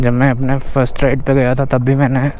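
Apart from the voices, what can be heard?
None of the usual background noises is heard.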